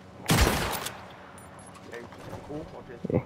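A single loud gunshot from a gun in the video game Red Dead Online, a sharp blast followed by a long rumbling decay, with faint voices and scattered sounds afterward.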